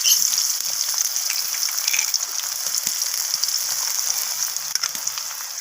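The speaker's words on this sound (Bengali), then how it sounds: "তো নাড়াচাড়া করে খুন্তি দিয়ে আমি পেঁয়াজটাকে ভেজে নেব" Sliced onions sizzle in a generous amount of hot oil on a wood-fired stove for birista, a steady bright crackling hiss with occasional spatters and faint stirring clicks.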